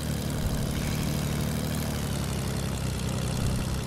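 Propeller plane engine in Fortnite drones steadily and loudly at close range, a constant low hum with no break or talk over it.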